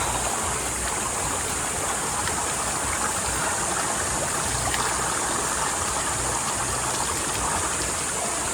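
Running water flows steadily into a mountain swimming pool at Tagbungan, a dense, continuous rushing hiss close by with no pauses.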